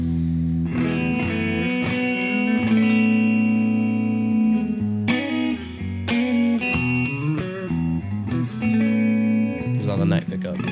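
A clean electric guitar on its neck pickup plays a warm, round melodic phrase, notes ringing and sustaining with a soft attack, fairly close and steady.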